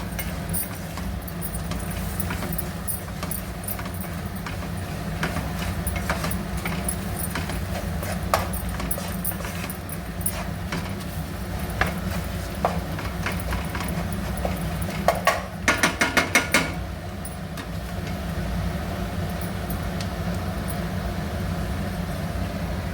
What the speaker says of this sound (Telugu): ఇవి ఒక 2 సెకండ్లు ఫ్రై చేయాలి మసాలా అంతా.